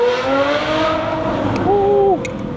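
A Ferrari 812 Superfast V12 exhaust sings in a loud, smooth, high-pitched tone, its pitch rising and then falling as the engine is revved close by.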